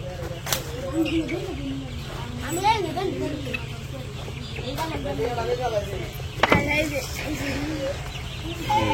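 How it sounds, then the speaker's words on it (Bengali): Tiger chickens cluck and chirp in repeated bursts on a village poultry farm, with several birds calling near and far while people talk throughout. "টাইগার মুরগি।"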